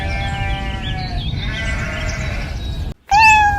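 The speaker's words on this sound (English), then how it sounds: "Sheep." A sheep bleats loudly in long, wavering cries close by, one drawn-out call followed by a brief break and a sharper, louder bleat.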